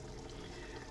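A quarter liter of water pours steadily into a container for instant soup stock, a faint continuous splashing rush with no voices.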